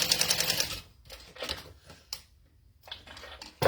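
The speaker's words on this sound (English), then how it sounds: "So now I can top stitch." A sewing machine runs a quick burst of top stitching while a Zip N Go bag is sewn. The stitching comes first as a loud, rapid mechanical patter, followed by quieter handling noises and short bursts.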